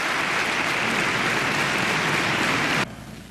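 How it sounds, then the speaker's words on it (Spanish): Audience applause at a public event, dense and loud continuous clapping that cuts off abruptly near the end, leaving a quieter room. "Otro aplauso."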